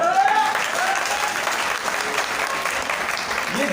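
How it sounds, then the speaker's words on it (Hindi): Seminar audience clapping steadily and loudly throughout, a dense, sustained round of applause filling the room with no break. "कुछ शादीशुदा बेचारे बड़े जोर से तालियां बजा रहे हैं"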